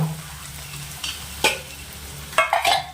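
Peanuts being stirred and fried in a pan for a barley breakfast, with soft scraping strokes and a few sharper clicks of the spatula over a faint sizzle.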